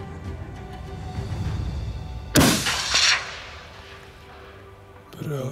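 A single rifle shot fired outdoors during a summer predator hunt, a sharp loud report followed by a rolling echo that fades over a couple of seconds, with faint rustling before it and a brief voice at the end.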